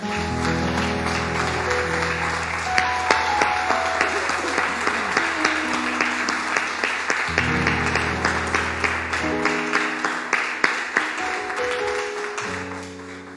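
A church congregation claps in praise to the Lord, loud sustained applause over a sustained keyboard with distinct claps standing out, ending a service.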